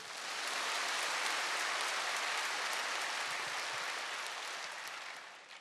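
A revival congregation claps in a church service, filling the space with a dense, steady roar of applause that holds for several seconds and then slowly thins out.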